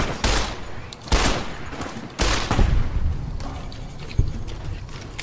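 Gunfire in Fallout: New Vegas, a few loud booming rifle shots spaced about a second apart, then quieter scattered shots and rumble in the background.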